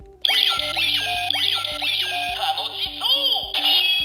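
A Ryusoulger changer toy plays its Mecha summon sound, a looping electronic jingle with repeated sweeping chirps over a steady stepped bass pattern, close and continuous.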